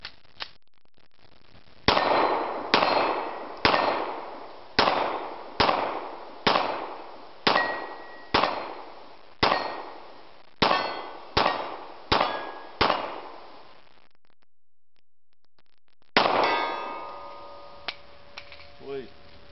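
Glock 19 pistol shots at long range, a string of about fifteen sharp cracks fired in a steady rhythm, each followed by a ringing clang and decay, then a pause and one final shot with longer ringing.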